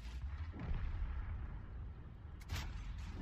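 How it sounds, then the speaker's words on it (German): Artillery shells land during a World of Tanks battle, heard as two heavy, muffled booms spaced a couple of seconds apart over a continuous low rumble of in-game engine and battlefield noise. "Artillerie schießt auf mich"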